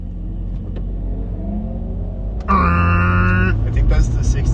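A passing truck with a loud engine: steady low rumble, then a sudden louder burst of engine roar with a strong tonal growl partway through, staying loud to the end, with speech-like sounds mixed in.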